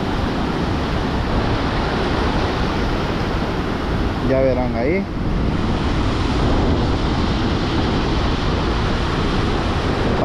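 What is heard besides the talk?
ocean waves breaking at the shore while fishing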